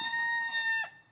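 A Barred Rock rooster crows nearby, a brief, strongly tonal call, with a short cluck from the flock at the end.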